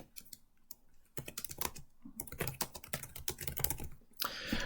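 Rapid, uneven clatter of keys on a computer keyboard while entering title text in Adobe Premiere Rush, close and fairly quiet, with short pauses between bursts.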